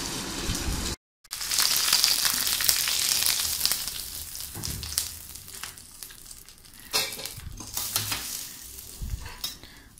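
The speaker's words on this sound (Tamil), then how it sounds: "கடுகு பொரிஞ்சதும் அதில் ஒரு கொத்து கருவேப்பிலை சேர்க்குறேன்." Loud sizzling and crackling of curry leaves dropped into hot oil with popped mustard seeds, with stirring scrapes and a brief break near the start.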